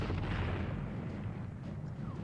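Artillery cannon fire in the 1970 battle film Waterloo, a continuous low rumbling barrage of distant booms rolling together without clear gaps.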